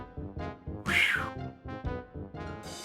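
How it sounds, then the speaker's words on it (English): A cat in the video game Day of the Tentacle Remastered lets out a few short strained meows and yowls in quick succession, close and fairly loud, with no one speaking over them. "like the cat's caught a moose up there."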